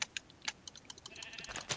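Sheep bleating in a video game, several short bleats scattered across the moment among clicky keyboard-like taps, fairly quiet overall.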